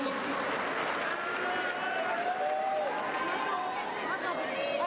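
Crowd noise from spectators at a Paris 2024 wheelchair tennis women's singles first-round match, a steady murmur of chatter and scattered calls that continues during play without letting up.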